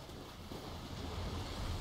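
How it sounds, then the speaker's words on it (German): Water waves in the Dark Souls 3 video game, a continuous low rolling wash of surf with a windy, airy hiss throughout the short stretch. "Da ist dieses Wasser."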